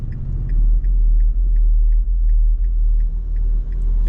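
Deep, steady bass thumping from a nearby car stereo, heard from inside a 2024 Nissan Frontier Pro-4X, a loud low-end throb pulsing continuously under road rumble.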